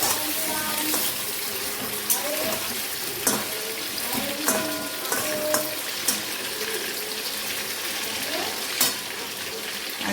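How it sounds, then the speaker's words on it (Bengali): Meat frying in a pan for a home-cooked curry with potatoes and onions, a steady sizzle broken by repeated scraping and stirring knocks, fairly close, with faint voices in the background. "মাংসগুলো ভেজে নিচ্ছে এখন ভালো করে"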